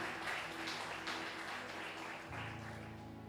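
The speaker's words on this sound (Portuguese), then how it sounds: "Dá uma salva de palmas ao Senhor Jesus" A church congregation at a conference claps in a soft, continuous wash of applause over a sustained musical hum, fairly distant and even throughout.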